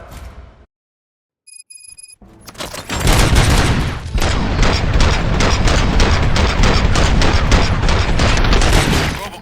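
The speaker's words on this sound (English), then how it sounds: "Gunshots? What's going on?" After a brief near-silence, a loud, sustained barrage of rapid gunfire erupts and keeps going, dense and continuous like automatic weapons, in the video game RoboCop: Rogue City.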